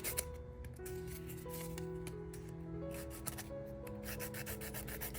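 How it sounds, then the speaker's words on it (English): A nail file rubbing back and forth against an acrylic gel tip to shape its edge, a steady close scratchy rasping that runs continuously, with faint musical tones behind it. "I'm going to file down the shape of the nail a little bit."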